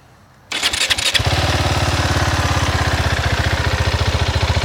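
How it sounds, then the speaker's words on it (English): A Husqvarna Svartpilen 701 motorcycle with its stock exhaust starts from silence with a brief whirring crank, then catches and settles into a loud, close, steadily thumping single-cylinder idle. "Let's fire it up."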